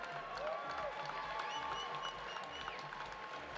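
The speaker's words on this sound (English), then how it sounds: "clap your hands for both of the fighters in this cage" Crowd at a PFC12 cage fight applauding both fighters, a steady wash of clapping heard fairly faint and distant, with some crowd noise mixed in.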